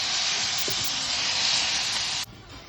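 Garlic, dried red chillies and curry leaves sizzle hard in hot oil, a loud, steady, dense hiss that carries on evenly for about two seconds and then drops abruptly to a softer crackle.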